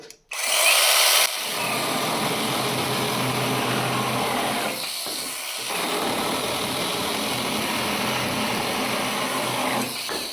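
A LEADER cordless battery mini saw runs loud and close, starting with a harsh high whine that drops into a steady motor buzz, briefly cutting out around five seconds before spinning back up and running on to the end.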